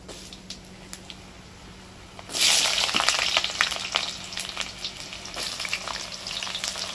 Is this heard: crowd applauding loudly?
no